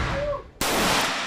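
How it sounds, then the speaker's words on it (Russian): An electromagnetic railgun test firing: a sudden, sharp, loud blast cuts in after a brief hum, followed by a sustained roaring hiss. "Это выстрел рельсотрона, электромагнитного ускорителя"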